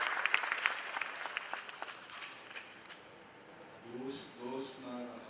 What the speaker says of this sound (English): can we have a round of applause for Aditya?